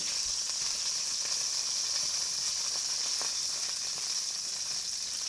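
Frozen hash browns fry in a pan with a dense, steady sizzle, a constant bright hiss with faint pops and crackles throughout, close and even, with no voices.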